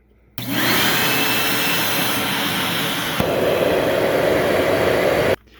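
A Bissell 89Q9 lift-off vacuum cleaner switches on with a loud, whining roar, runs steadily, shifts pitch partway through as airflow changes, then cuts off abruptly.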